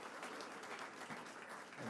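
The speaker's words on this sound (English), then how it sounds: "Another round of applause for Annika there." An audience at a New York event on school smartphone restrictions gives brief, steady clapping that fills the short moment evenly at a moderate level.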